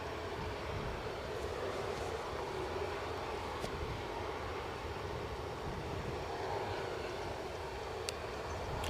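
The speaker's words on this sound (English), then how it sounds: "So first Dreamliner, only Dreamliner of the show, is coming your way imminently." A Boeing 787 Dreamliner approaching Edinburgh airport, a faint, distant, broad jet rumble and hiss that stays even throughout, with a couple of brief clicks.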